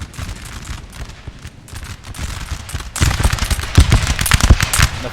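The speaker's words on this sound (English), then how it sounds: "Firing off volley after volley." Musket volleys in Napoleon Total War crackle as dense, rolling bursts of overlapping shots, moderate at first and then swelling into a louder, thicker barrage of rapid cracks and thumps with no talking.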